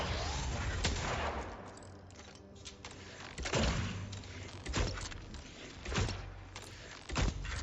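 Repeated hand cannon shots in the Destiny video game during a solo Grandmaster run on Birthplace of the Vile, sounding as loud, sharp reports spaced a second or two apart over a steady bed of combat noise.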